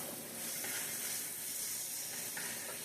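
About four strips of thick-cut bacon frying in a pan, a soft steady sizzle and hiss that stays even throughout, fairly quiet with no talking.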